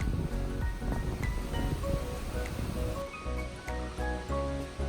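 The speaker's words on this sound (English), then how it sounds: "It is super windy though." Strong wind rushes and roars steadily through mountain foliage on a backpacking trail in Shenandoah National Park, with occasional gusts and faint clicks, no talking.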